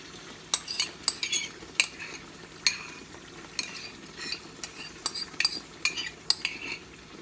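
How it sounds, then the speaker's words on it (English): A spoon stirs canned tomatoes into hot oil and onions in a pot for jollof rice, with repeated metallic scrapes and clinks against the pot over a soft steady sizzle, close and alone. "You stir it for some time to make sure that it's incorporated into the oil with the onions"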